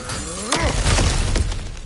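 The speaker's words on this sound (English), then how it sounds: "Ah, back to smashing through things for fun and profit" Breakable objects smash and shatter in the God of War video game, a loud crash with debris bursts and thuds over about two seconds, close and punchy over game ambience.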